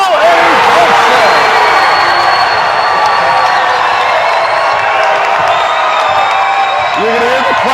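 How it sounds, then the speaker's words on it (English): A packed high school basketball gym crowd roars and cheers after a steal, a loud, sustained wall of shouting and whoops with sneaker squeaks and a commentator talking over it. "You can hear the crowd knew it was coming as soon as they saw the steal"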